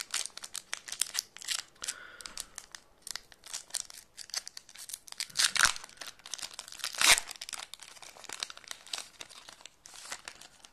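A foil Pokémon card booster pack is torn open and handled up close, giving a long run of sharp, irregular crinkles and crackles with a few louder tearing bursts.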